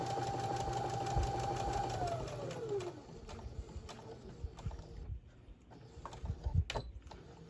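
A sewing machine runs a steady quarter-inch seam down a patchwork tote panel, its rapid even stitching close and continuous, with a short lighter stretch and a few clicks near the end.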